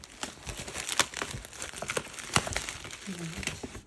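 A package is cut open and its packaging crinkles, giving a busy run of close rustling, crackling and tearing sounds with a few sharper snaps, and no one speaking.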